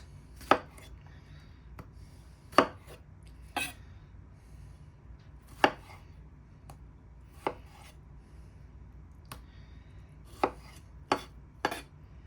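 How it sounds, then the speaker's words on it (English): A knife cuts tomatoes into quarters on a board, with about ten sharp separate chopping knocks at irregular intervals over a quiet background, close and without talk. "then I'm just going to quarter my tomatoes"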